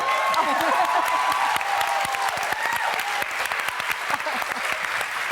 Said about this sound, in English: Never in my career did I expect to get applause for getting married at 48.